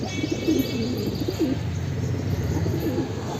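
Wild pigeons on a rooftop coo softly and steadily, close by and alone, with low murmuring calls running through the whole short stretch.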